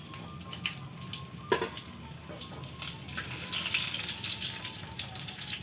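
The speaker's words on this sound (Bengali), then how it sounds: "একটু ছাকা তেলে ভালো করে লাল করে ভেজে নিতে হবে" Eggplant slices deep frying in hot oil in a wok, a steady bubbling sizzle throughout with a sharp clink near the start and brief utensil scrapes, no talking.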